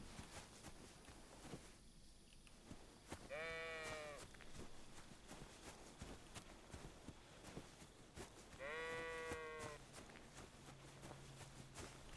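A sheep in the video game Kingdom Come bleats twice in long wavering cries, several seconds apart, over soft footsteps and ambient outdoor noise.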